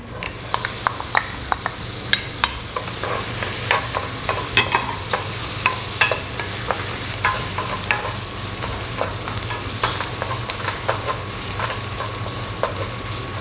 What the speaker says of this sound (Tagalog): So, igisa lang natin yung ating onion.